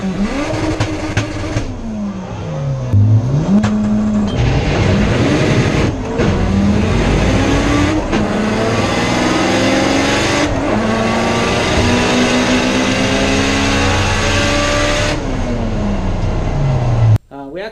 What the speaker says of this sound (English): here's a clip real quick of a 1054 pass versus a Camaro, nitrous Camaro in the stick shift class.